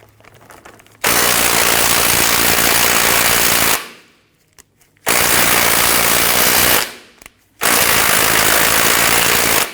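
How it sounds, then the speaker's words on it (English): A deep socket on a powered wrench loosens a 21mm outer tie rod nut on a Hummer H3, firing three loud, rapid rattling bursts of a few seconds each, separated by short near-silent pauses. "We're going to use our deep socket here to go ahead and loosen that."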